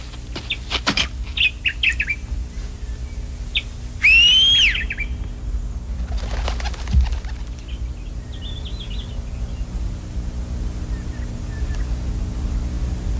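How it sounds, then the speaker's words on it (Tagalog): A robin sings in a garden with scattered chirps and one clear rising whistled phrase, heard fairly near over a soft background hiss. "Yung kumakantang ibon"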